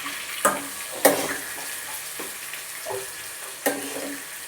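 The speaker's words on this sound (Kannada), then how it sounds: "ಜೀರಿಗೆ ಹಾಕ್ತಿದ್ದೀನಿ." Cumin seeds are dropped into hot oil and sizzle in a steady, moderate crackle, with a few sharp knocks and clatters from utensils against the pan.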